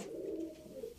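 Domestic pigeons give a short, soft, low coo, a single faint murmuring call lasting about a second.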